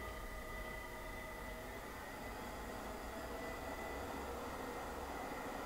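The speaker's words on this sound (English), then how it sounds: "The wheel is spinning at 700 RPM." Mitsui 8" x 18" high-precision surface grinder with its wheel spinning at variable speed, giving a steady, even broadband whir with faint high tonal lines, continuous and unbroken throughout.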